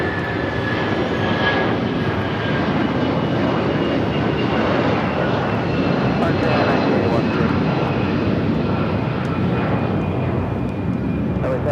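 Airliner engine roar on final approach to land on runway 25 left at Los Angeles International Airport, a steady broad rumble filling the whole stretch at close range, with radio voices talking over it.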